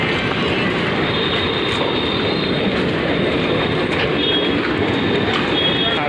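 A train rolls past near a beach-side market, a loud continuous rumble with rattling wheels and faint squealing that fills the whole stretch, close by and steady.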